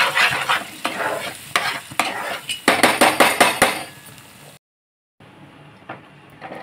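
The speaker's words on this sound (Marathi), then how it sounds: "ही चांगली परतूया आणि मग ह्याच्यात आपण सगळे मसाले घालून घेऊया" Okra sautéing in a pan for bhendi masala, a steady sizzle broken by repeated scraping and clanking strokes of a spoon against the pan, then a brief silence before quieter frying resumes.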